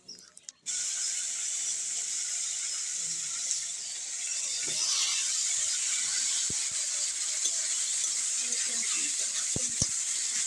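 Vegetables hit hot oil seasoned with bay leaf, dried chili and whole cumin, giving a steady, close sizzle that swells and holds for several seconds, with a few clinks of a utensil against the pan.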